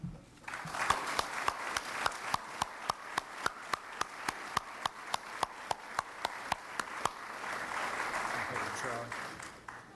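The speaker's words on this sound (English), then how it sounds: "Will you now join me in a warm round of applause for our Master of Ceremonies, Mr. Bob Van Pelt." Audience at an awards dinner for a county business hall of fame inductions claps steadily, with sharp rhythmic claps standing out over a dense wash of applause that fades slightly near the end; no speech.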